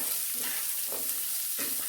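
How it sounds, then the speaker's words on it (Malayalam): Finely chopped onion sautéing in a pan for rava uppumavu, with a steady close sizzle and a few stirring scrapes under it. "ഇതിലേക്ക് ഒരു ചെറിയ സവാള ചെറുതായിട്ടരിഞ്ഞതും കൂടെ ഇട്ട് കൊടുക്കാം. നല്ലതുപോലെ ഇത് വഴറ്റി കൊടുക്കാം."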